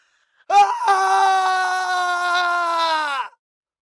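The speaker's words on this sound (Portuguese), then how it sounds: "Malfoy soltou um grito terrível e fugiu" A man lets out a single terrible scream of horror, loud and strained, lasting about three seconds alone, in a dramatized audiobook scene from Harry Potter set in the Forbidden Forest.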